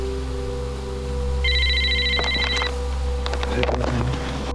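A mobile phone rings with a repeating electronic ring pattern, moderately loud over a steady low hum and background noise, with faint rustling movement near the end.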